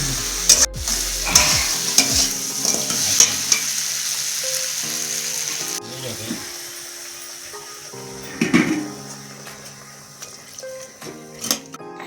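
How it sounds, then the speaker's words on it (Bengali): Egg frying in a pan with Maggi noodles and seasoning, a steady sizzle with repeated scraping and stirring clatter of a utensil against the pan, close and fairly loud throughout. "আর এখানে ডিম ভাজা, ডিম দিয়ে"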